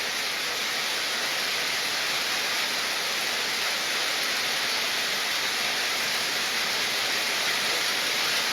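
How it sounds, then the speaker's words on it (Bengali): Torrential rain falls on the Baleshwar riverbank at Mathbaria, producing a thick, even wash of noise that stays loud and constant from start to finish, free of speech. "প্রচুর পরিমাণে বৃষ্টি হচ্ছে।"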